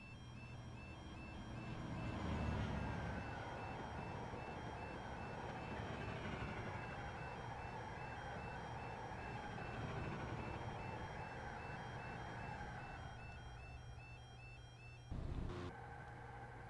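Railroad crossing warning bells in Train Simulator ring in a loud, steady repeating pattern alongside a continuous rumbling drone, with a short clunk near the end.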